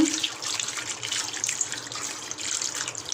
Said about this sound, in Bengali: আর কিছু পানি দিয়ে দিচ্ছি